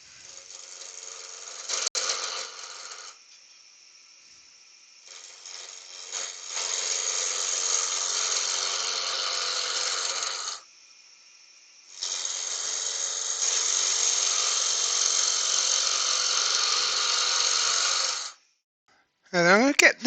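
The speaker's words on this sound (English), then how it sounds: "Let's start by making it round. So I'm just going to use a spindle gouge for this because it's only a small blank" A small wooden pen blank spins on a wood lathe while a spindle gouge rounds it, giving a steady, fairly loud rough cutting whir in long stretches separated by short pauses, with a brief squeak at the very end.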